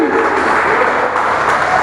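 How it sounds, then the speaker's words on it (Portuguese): A church congregation at a Baptist service claps steadily and loudly, with dense, continuous applause filling the room throughout. "E pode dar uma linda salva de palmas para Ele."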